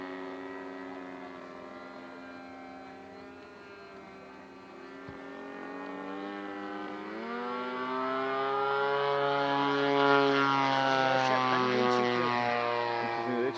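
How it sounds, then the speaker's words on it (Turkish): A propeller aircraft drones steadily overhead, its harmonic engine tone growing louder and fuller as it draws closer over the Kashmir scenery. "Bu arada Şemsi Hoca'nın uçağı."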